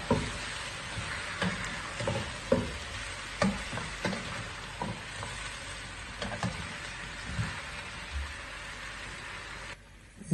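A kilo of mutton frying and being stirred in a pot, a continuous sizzle broken by repeated scraping and knocking of the spoon at an uneven rhythm.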